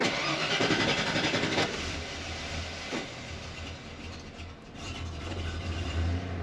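An OBS Ford truck engine cranks and catches after fuel priming during a tune-up, then runs with a steady low rumble, close and continuous, without talking over it.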